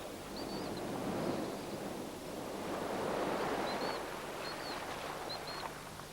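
Ocean surf rolling onto a shore in a steady, broad wash of waves at moderate distance, with a faint gust of wind and a few high chick-like chirps over it.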